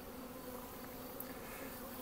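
A queen starter colony of honey bees gives off a dense, continuous hum that stays soft and even, with no voices over it.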